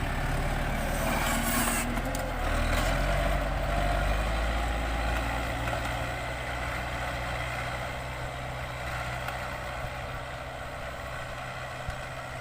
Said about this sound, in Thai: โอ้รถไถครับพี่น้อง เต็มทุ่งนาอยู่ครับ